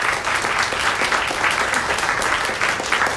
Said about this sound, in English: Let's give a clap offering to the Lord.